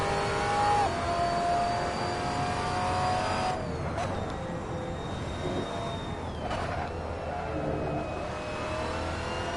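Maserati race car engine in Assetto Corsa, a high whining note that holds steady and then drops at each gear change, running continuously over a dense rumble of road and tyre noise.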